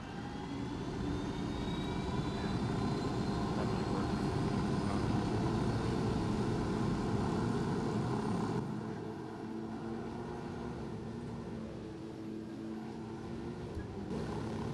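A helicopter flies in the video game Ghost Recon Wildlands, giving a steady, droning engine and rotor roar that runs unbroken throughout and drops to a lower, quieter hum for the last few seconds.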